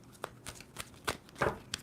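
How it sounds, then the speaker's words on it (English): A deck of tarot cards is shuffled in a quiet room, giving soft, rhythmic riffling slaps at about two per second, close and faint, with no talking. "2 more shuffles."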